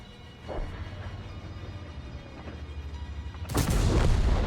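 A low rumbling tank engine drone with faint distant thuds, then a sudden loud FV4005 Stage II cannon blast in a video game near the end that rolls into a booming roar.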